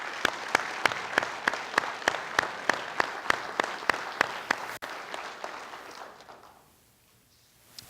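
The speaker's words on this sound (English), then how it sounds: "So how about a round of applause for all of our veterans who serve?" An audience at a police awards ceremony applauds veterans, with loud, regular claps close by over broad crowd clapping that thins and fades to near silence toward the end.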